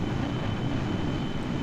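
Space plane engines in Kerbal Space Program roar as a steady, dense, loud drone that holds unchanged throughout the short stretch.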